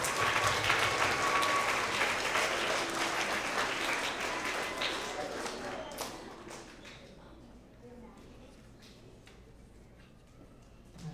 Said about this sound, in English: Let's have another round of applause for all of our 3rd grade creative problem solvers.